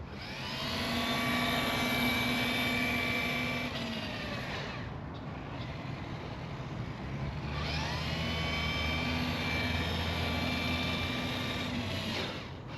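A Cross RC EMO X3 off-road RC recovery vehicle runs in high gear, its electric motor whining loudly and steadily close by, easing off briefly in the middle before rising again.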